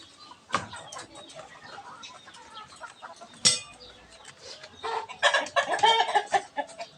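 Chickens cluck and squawk nearby in an outdoor yard, with scattered calls at first and a busier burst of clucking toward the end.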